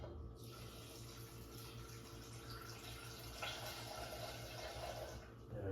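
Tap water runs steadily into a cooking pot, filling it with about two cups for a microwaveable fried fish dinner, a continuous close splashing stream with a brief surge partway through and no talk.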